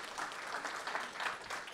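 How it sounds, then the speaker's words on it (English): A short, fairly quiet burst of audience applause at a hacker conference session, a steady crackle of many hands clapping with no voices. "Let's give Matt another round of applause,"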